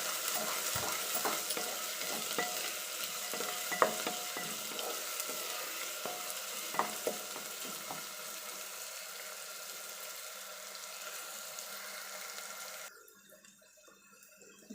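Onions sautéing with curry leaves in a pan for a Hyderabadi chicken gravy, a steady close sizzle with occasional stirring scrapes and clicks that drops away near the end.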